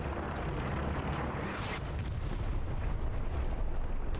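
A large explosion in the World War II shooter Hell Let Loose, heard as a sustained, loud, rumbling roar with dense crackling debris that fills the whole stretch without fading, no voices over it.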